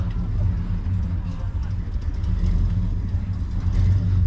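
An old Chevrolet Monte Carlo rumbles at a car show on the Cornish fairgrounds, its low engine drone steady and close throughout, with people talking over it and crowd noise behind.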